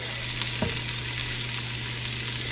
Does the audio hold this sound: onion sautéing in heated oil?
yes